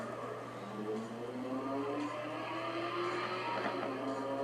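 A 1972 Porsche 911 Carrera RS 2.7 race car engine in the video game Real Racing 3 drones steadily at high revs with a slowly rising pitch, loud and continuous, with faint tire noise underneath, at Dubai Autodrome.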